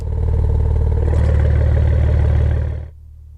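A Porsche Macan with an Armytrix valved exhaust in race mode gives a steady, deep engine drone that holds loud and close, then drops away to a low idle hum near the end.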